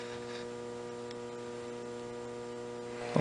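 Steady, quiet mechanical hum of a Felder RL160 dust collector fan running in a workshop, holding constant with harmonic drone throughout and a brief louder bump right at the end.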